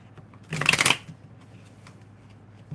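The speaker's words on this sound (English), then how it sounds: "these are not shuffling right for me." A deck of tarot cards is shuffled in one quick, crisp riffle lasting about half a second, close to the microphone, followed by quiet room tone.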